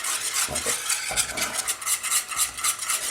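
A whisk stirring a mac and cheese mixture over low heat, a continuous close scraping swish with soft pulsing strokes and a faint sizzle underneath, no voices.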